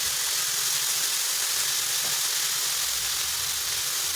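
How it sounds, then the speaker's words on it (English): Tomatoes fry in a hot pan for fish in coconut sauce, giving a loud, even sizzle that holds steady from start to finish with no pauses. "fry it until all the tomatoes are well cooked and soft."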